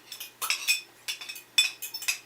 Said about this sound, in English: It's stirring the teaspoon.